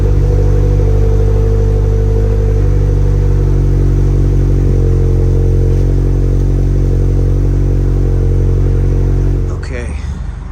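A Toyota GR86 engine with a GR Performance exhaust rumbles steadily at idle after a warm start, loud and close with a deep exhaust drone, then cuts off near the end.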